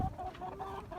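Buff Orpington chickens cluck softly in a short burst, a few low throaty notes close by with a faint hum behind.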